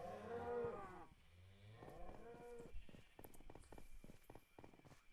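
Minecraft cows on a farm moo a few times up close, long drawn-out lows early on, followed by a run of quick rhythmic clicks and taps.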